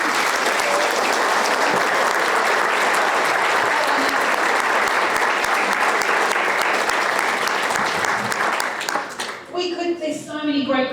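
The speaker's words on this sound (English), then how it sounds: "A round of applause for Ken and his excellence." Sustained loud applause from an audience at an evening talk event, dense clapping filling the room for about nine seconds before tapering off, with voices emerging at the end.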